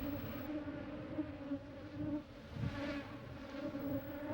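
Honeybees buzz in a steady, low hum with a faint pulsing swell, a quiet swarm drone heard alone.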